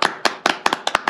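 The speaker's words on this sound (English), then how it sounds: "let's give them a round of applause" A few people clap their hands at a horse farm, about a dozen sharp, close claps in an uneven rhythm over roughly a second, loud and dry with no voices.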